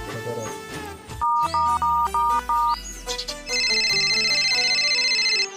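A mobile phone ringtone plays while calling a friend, a loud, bright electronic melody of repeated tones that shifts to a sustained chiming pattern, with no voices.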